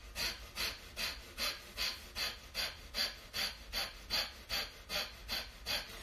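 Forceful, rhythmic exhalations during a breathing stretch led by a performer, about a dozen sharp puffs in a steady pumping rhythm, close and alone without talk.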